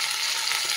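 Potatoes, bay leaf and onions fry in a pan for semiya biryani, a brief steady hissing sizzle at moderate volume.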